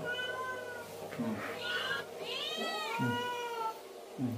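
Several cats meow repeatedly, overlapping plaintive cries rising and falling up close, with a few low bumps in the background.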